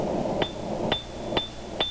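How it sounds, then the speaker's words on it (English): A blunt cross peen hammer strikes a metal rosette being worked into eight petals: four close, sharp blows with a bright ringing clink, spaced evenly about half a second apart. "Now the hammer I'm using, the cross peen's quite blunt."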